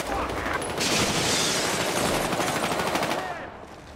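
Rapid bursts of automatic gunfire in the video game Battlefield Hardline multiplayer, loud and continuous, the shots rattling in quick succession before tapering off.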